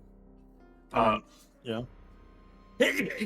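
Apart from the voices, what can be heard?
two sneezes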